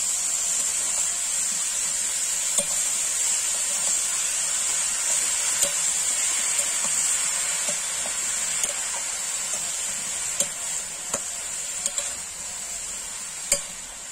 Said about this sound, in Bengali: মশলা কষানো হয়ে গেছে, এর মধ্যে আমরা এবার পাতালকোড়টা দিয়ে দেবো।